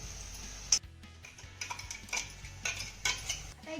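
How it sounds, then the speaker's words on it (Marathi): A utensil scrapes and knocks against a pan while tomato is sautéed and stirred, making close metallic clinks and short scraping strokes in an irregular rhythm, with one sharp clank near the start and no speech. "हा टोमॅटो आपल्याला चांगला मौसूद परतून घ्यायचा आहे."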